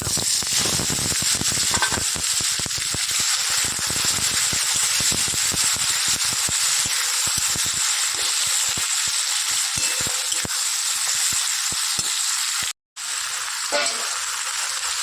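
Onions hit hot oil already tempered with chili and cumin, producing a loud, continuous close sizzle with stirring rattles and spatter, briefly cut out for a moment near the end.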